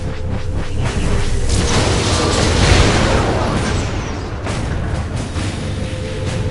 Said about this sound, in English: I assume that explosion took care of him.